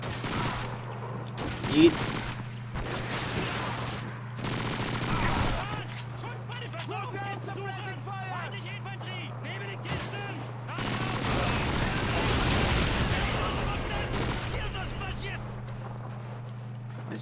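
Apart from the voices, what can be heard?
gunfire in the video game Call of Duty 2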